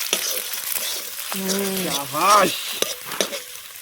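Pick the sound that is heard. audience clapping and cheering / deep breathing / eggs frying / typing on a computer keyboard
eggs frying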